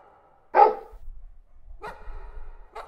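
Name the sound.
dog barking in Butterfly Soup video game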